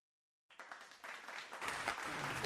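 A studio audience at the FameLab International Final 2024 bursts into applause after a short silence, the clapping building quickly to a full, sustained round.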